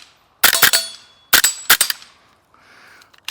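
Several sharp rifle gunshots crack out in two quick bursts, one shot after another with brief ring-outs, followed by a faint trailing rustle near the end.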